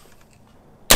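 A single sharp gunshot from a 10.5 inch PSA AR pistol firing 55 grain .223 rounds, loud and abrupt at the very end after near silence.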